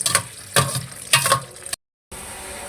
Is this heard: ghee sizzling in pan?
yes